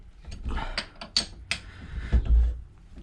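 A wrench works the nuts on an AM6 moped engine during teardown, a close series of sharp metallic ratcheting clicks and taps over about three seconds, ending in a heavier thunk.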